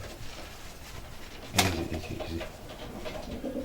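Racing pigeons from Belgian bloodlines cooing softly inside a pigeon loft, low murmuring calls over a steady background with one brief sharp knock midway.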